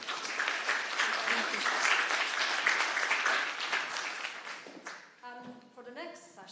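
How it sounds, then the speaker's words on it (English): Audience applause fills a summit hall on climate and ESG legal risk, a steady wash of clapping for about five seconds before thinning out as a few voices and tonal sounds take over. "give Bessie another round of applause for today"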